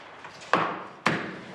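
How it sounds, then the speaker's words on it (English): Two sharp, heavy hammer blows land about half a second apart on old ship timber around metal bolts during dismantling of a pirate ship, loud and close, each ringing out briefly with no talk. "The gentle approach, using hammers and grinders"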